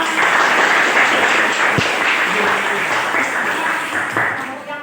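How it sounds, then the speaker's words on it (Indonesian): Audience applause at an Indonesian teachers' academic coaching and supervision session, loud and steady dense clapping through most of the span, tapering slightly at the end, with faint voices mixed underneath. "Tepuk tangan."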